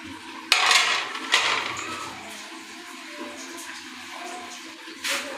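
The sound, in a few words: mixing strawberry, apple and banana in a bowl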